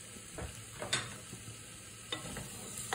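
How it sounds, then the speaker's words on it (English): Cooked chicken and sliced jalapeno sausage sauté in a pot for gumbo, a soft sizzle broken by a few scraping spoon strokes, quiet and close. "just kind of stir this a little bit. You get that to saute."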